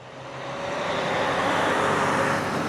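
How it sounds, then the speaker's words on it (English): A big truck rumbles past on a road by a Chevrolet dealership, its broad engine and tire noise building up and staying loud and close. "There's a big old truck about to drive through our picture here."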